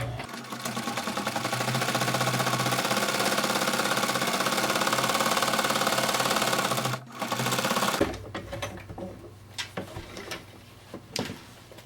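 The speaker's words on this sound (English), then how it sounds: "I'm just sewing the flap over." A sewing machine stitches a pencil case flap with bright red thread, a fast continuous mechanical whir close up for about eight seconds before stopping, followed by scattered clicks and handling noises.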